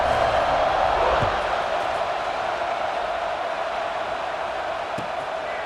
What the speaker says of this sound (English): Do you think this crowd's going to get loud when their defense comes on the field?